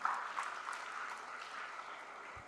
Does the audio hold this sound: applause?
yes